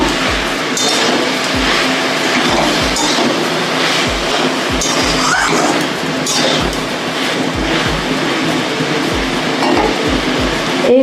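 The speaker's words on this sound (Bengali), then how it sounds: "আমি ভালো করে কষিয়ে নিচ্ছি" Banana stem curry being sautéed and stirred in a pan with broken lentil dumplings, a steady sizzling hiss broken by a regular rhythm of soft clinks from a spatula scraping the pan, loud and close with no talk.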